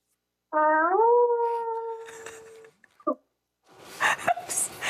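A single long, rising then sustained howl imitated by a human voice, followed by brief mouth noises and then a short burst of laughter or chatter.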